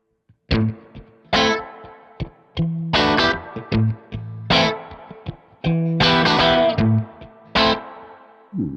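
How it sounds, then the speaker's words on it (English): Distorted electric guitar chords strum in short bursts with a gap between each, a soft spring-style reverb tail from a Kemper Profiler trailing after every hit. "It's a spring reverb style sound."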